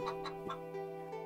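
A chicken in the PS1 video game Wild Arms clucks in a few short, quick bursts over a steady, tonal game music backdrop, fairly faint overall.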